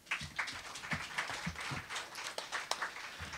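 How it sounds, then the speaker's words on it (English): Steady applause from a small crowd at a Monster Energy Supercross press conference, many hands clapping continuously at moderate distance, fairly faint and filling the whole moment without talk. "Big round of applause for two-time defending Monster Energy Supercross champion,"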